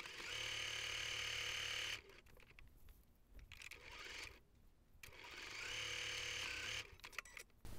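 A sewing machine runs in steady buzzing bursts while stitching a U-shaped seam along a fabric bag panel backed with fusible batting, with a pause and quiet handling noises between the two runs.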